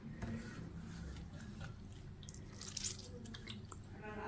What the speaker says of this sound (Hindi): ऐसे हाथ में पकड़ के ना इसका पानी निकालना है